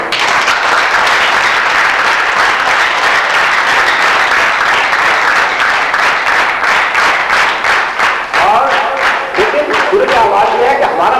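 An audience at a silver jubilee ceremony of the Pakistan Association of the Blind bursts into loud, sustained applause, dense clapping that fills the hall and thins into separate claps at the end.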